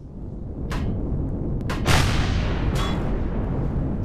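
Several weapon shots ring out in the space survival game Empyrion - Galactic Survival, sharp bursts spaced irregularly over a steady rumbling background, loud and close.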